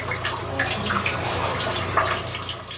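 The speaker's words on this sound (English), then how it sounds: "Water pouring from a bathroom ceiling" Water pours from a bathroom ceiling in a mold-damaged apartment, a steady splashing and trickling stream with irregular drips, close and continuous without any talk.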